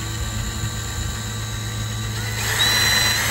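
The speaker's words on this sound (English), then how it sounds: "I'm going to drill a pilot hole." A power drill bores a pilot hole through the truck bed rail of a 1974-1980 Dodge Ramcharger or Plymouth Trailduster. The steady motor whine runs close and loud, then rises sharply in pitch and volume near the end.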